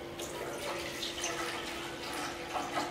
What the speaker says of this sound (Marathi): मी इडलीचं भांड गॅसवर गरम करायला ठेवलंय, आणि त्याच्यात आता आपण पाणी घालू थोडं